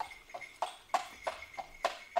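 Horses' hooves clip-clop on the road as a carriage arrives, about eight crisp, evenly spaced strikes, close and clear with no talk over them.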